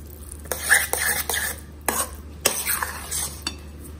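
A spoon stirs curd rice in a pot, giving a few close, irregular scraping and clinking strokes with short pauses between them.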